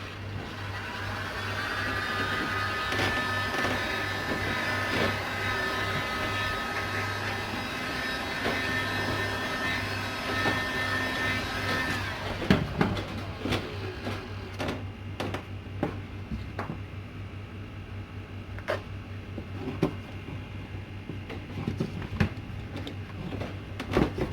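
A heat gun blows steadily while warming tolex covering on an internal corner of a guitar amp cabinet. The hum is continuous and fairly close, then changes at the midpoint to scattered clicks and handling taps over a lower drone.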